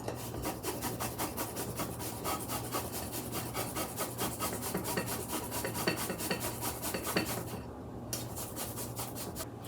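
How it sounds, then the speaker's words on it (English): Homegrown garlic clove, peeled and large, rasped steadily against a grater into tzatziki dip, a close, continuous scraping rhythm of quick strokes that pauses briefly near the end. "It's peeled, and I'm just gonna grate it into the dip,"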